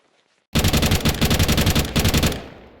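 A FAMAS rifle in Counter-Strike 2 fires a sudden, loud, rapid automatic burst after a brief silence, roughly a dozen evenly spaced close shots before tailing off.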